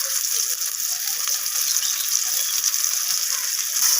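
Rohu fish pieces fry in hot oil as a spatula lifts and turns the tail, giving a steady, close sizzle with faint scraping ticks throughout.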